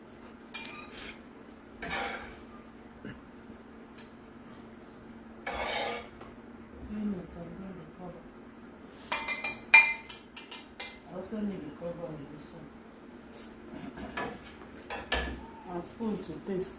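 Plates and dishes clatter in a home kitchen while soup is prepared, with scattered clinks, knocks and scrapes of crockery and cutlery, some sharp and close, mixed with bursts of talk.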